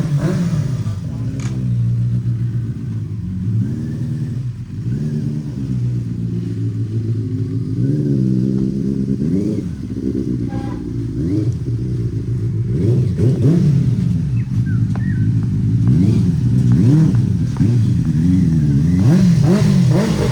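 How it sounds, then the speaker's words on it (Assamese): A Benelli 600i motorcycle engine drones steadily while riding, its pitch wavering with throttle changes over a constant rush of wind, heard close and loud throughout. "বাইকৰ চাউণ্ডটো ভালকৈ শুনি পোৱা যাব"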